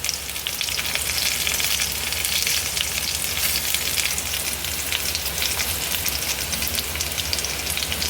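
Curry leaves and green chillies fry in hot oil for a Kerala-style inji puli, giving a continuous, close, bright sizzle and crackle throughout with no talking.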